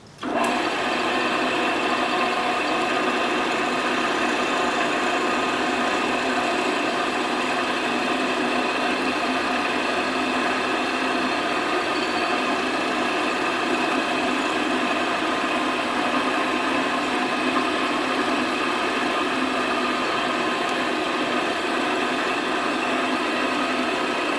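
A mortising attachment drives a chisel bit into wood with a loud, steady motor whine that runs unbroken for about twenty-four seconds, with no voices.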